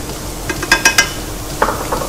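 Ginger and garlic fry in a pan with a soft continuous sizzle, broken by several quick metallic clinks and scrapes of a utensil stirring.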